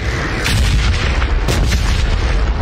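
Heavy artillery pounds a bombing zone in a video game shooter, a loud, dense roar of booming impacts rolling continuously at close range, with sharper blasts breaking through now and then.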